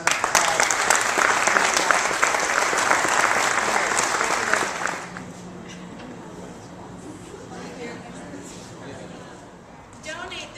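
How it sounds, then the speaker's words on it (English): An audience applauds technicians at a car giveaway event, with dense, loud clapping for about five seconds that then drops off sharply into quieter room murmur and scattered sounds. "So I just really want to give a round of applause."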